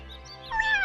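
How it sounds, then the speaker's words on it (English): Cat meowing in the video game Wylde Flower: a single short, close meow rising at the end, over a soft background music drone. "Hey, kitty. What are you doing here?"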